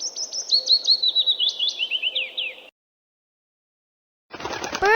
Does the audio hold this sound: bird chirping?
yes